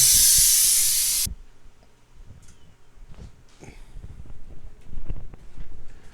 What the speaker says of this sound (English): You can hear the steam going down.